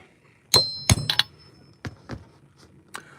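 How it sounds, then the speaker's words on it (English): A hammer drives an oil seal into place during a 461 oil seal replacement: close, sharp metallic clangs in an irregular series of about eight strikes, some in quick pairs, others spaced apart. "Just hammer it in there,"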